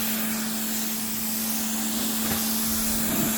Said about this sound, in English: We're gonna give it a rinse